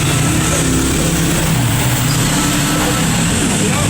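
A Panasonic automatic washing machine runs its spin cycle with a steady, loud motor hum and broadband whir, the drum spinning continuously throughout with no voices.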